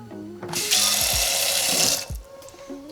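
A quarter cup of water poured into a cooking pan, a steady close splashing stream lasting about a second and a half, with brief clinks of the cup against the pan before and after.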